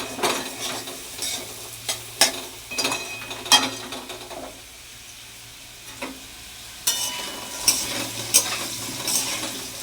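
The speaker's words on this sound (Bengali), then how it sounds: "আলু ভাজাটা নামিয়ে দিয়ে উচ্ছেটা দেবো, একটু ভেজে নিয়ে তারপর আলুটা দিয়ে দেবো।" Bitter gourd pieces fry in a pan with a low sizzle, broken by repeated scraping and clattering strokes of a spatula stirring against the metal and a brief quieter stretch in the middle.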